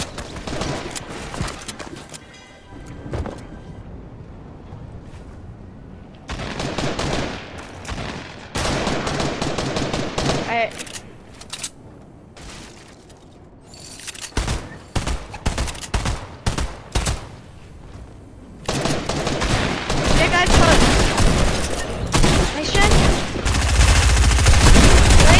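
SMG fire in Fortnite rattles in rapid bursts across a busy match, with dense automatic volleys separated by short pauses and a heavy, sustained stretch of firing near the end, loud and close.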